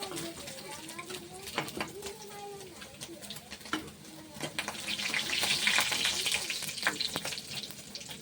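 Paneer frying in a pan with a soft sizzle that swells louder in the second half, mixed with light clatter and faint background sounds.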